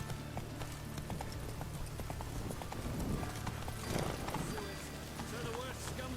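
Roach, the horse in The Witcher 3 video game, trots with a steady clip-clop of hooves under a continuous hum of game music and ambience, with a brief whinny partway through.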